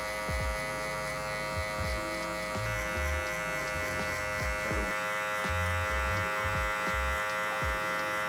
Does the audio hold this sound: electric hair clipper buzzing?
yes